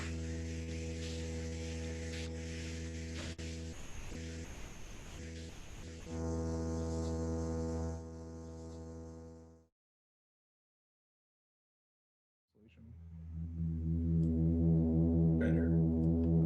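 A subtractive synthesizer holds a sustained, harmonically rich tone that grows louder partway through, breaks off into a few seconds of silence, then returns even louder and brighter. No voices are present.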